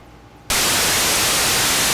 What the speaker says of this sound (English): The gate is much brighter even than the white noise.